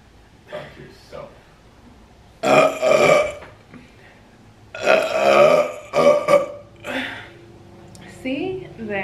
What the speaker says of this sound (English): If I do the burps more clustered together, I feel like people are less likely to be bothered by them